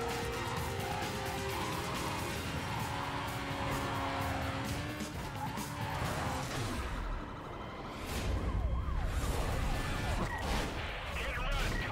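Police car siren in the video game Need for Speed: Carbon, a wailing rising-and-falling tone over loud roaring car engines, with someone talking now and then.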